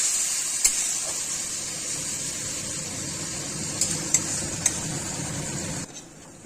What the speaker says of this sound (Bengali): পেঁয়াজ আর মশলা সুন্দরভাবে কষানো হচ্ছে। একটু একটু করে তেলও ছেড়ে দিচ্ছে।